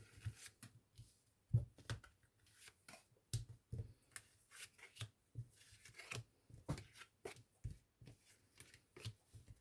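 A tarot deck is shuffled for a nine-card Gemini reading, giving soft, close riffles and slaps in irregular bursts at low volume, with brief taps between them and no voices.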